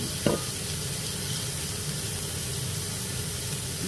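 Minced pork sizzles steadily in a frying pan as it is stirred, with a brief scrape of the utensil near the start and a constant close hiss of fat and steam throughout, no talking.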